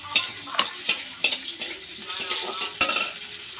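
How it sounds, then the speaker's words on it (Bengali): Chopped tomato goes into hot oil with frying onions over a wood fire, sizzling steadily while a utensil stirs and clinks against the pan in quick, close knocks. "এবার টমেটো কুচি দেবো তেলের মধ্যে"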